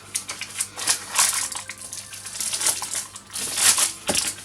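A knife cuts through a flaky caramel apple and raisin strudel, giving a run of close, dry crackling crunches as the pastry layers shatter, with no voices.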